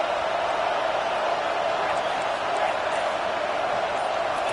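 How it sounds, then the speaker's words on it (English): A stadium crowd roars loudly and continuously at a football game, a dense wash of cheering with no individual voices standing out. "Listen to this crowd just shaking the girders of this place"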